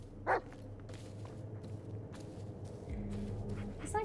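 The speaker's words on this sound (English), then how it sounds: "It's like woofing" A dog in the Blair Witch horror game gives a single short bark early on, faint against a low droning ambience, followed by soft rustling footsteps and a distant hum.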